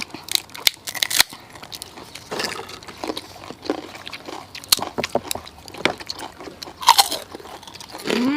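Close, crisp crunching and chewing of fried pork rinds eaten with a green chili dip, with repeated sharp bites and wet chewing in an uneven rhythm and no talking.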